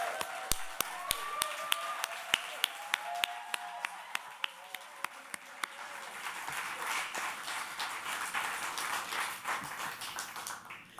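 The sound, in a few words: audience applause for the poets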